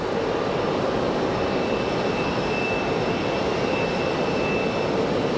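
An F-15 fighter jet passes by a plane-spotting area at Raleigh-Durham International Airport, giving off a steady, broad jet roar that holds loud and constant without any talk over it.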